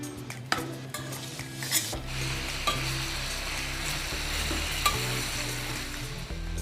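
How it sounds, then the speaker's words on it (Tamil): Chicken wings sautéing with ginger garlic paste, salt and turmeric in a pan, a loud, steady sizzle with spoon scrapes and clinks against the pan throughout, no voices. "இப்போ நம்ம ginger garlic paste, salt and turmeric போட்டுட்டு நல்லா அதை வந்து saute பண்ணனும்"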